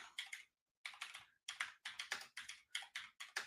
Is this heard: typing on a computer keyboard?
yes